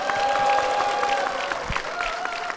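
A church audience claps to welcome a deacon, with moderate, brief applause under a steady tone.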